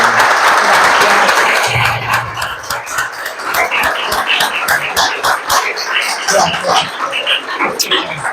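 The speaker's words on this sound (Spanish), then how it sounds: "le damos un aplauso" Audience applause at a literature conference interview bursts out loud and close, then thins into scattered claps with a few voices murmuring through it.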